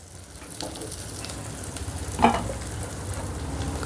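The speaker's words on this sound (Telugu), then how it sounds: "ఇప్పుడు ఇందులో కొద్దిగా పచ్చి బఠానీ కూడా వేసుకుందాం" Green peas are stirred into a brinjal and potato curry frying in a pan, a close, dense sizzle with a brief louder scrape of the spoon midway.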